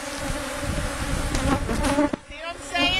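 Honeybees buzzing loudly and close during a hive inspection, a dense droning hum with shifting pitch as individual bees pass near, briefly dipping before the swarm sound returns.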